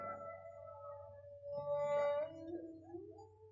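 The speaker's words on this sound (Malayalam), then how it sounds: "എവിടൊക്കെയോ പട്ടികൾ ഓലിയിടണു" Dogs howling somewhere in the night, a long wavering tonal wail rising and falling over a low hum, with several overlapping howls, moderately distant and fairly quiet.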